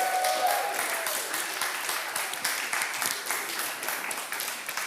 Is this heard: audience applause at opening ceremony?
yes